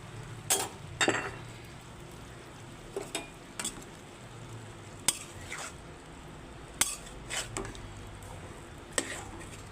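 Shrimp, cauliflower and potato being stir-fried together in a pan, with a spatula clinking and scraping against the metal in scattered bursts over a low, steady background sizzle.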